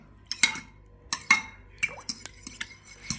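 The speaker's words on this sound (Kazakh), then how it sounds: "Қатты араластырып аламыз." A mixture for bread toast is stirred hard in a dish, a spoon clinking and scraping against the bowl in irregular quick knocks, close by.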